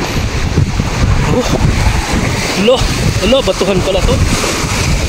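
Rough sea waves crash and splash repeatedly against a seawall at Gumaca, Quezon, with strong wind buffeting the microphone and voices talking over the surf.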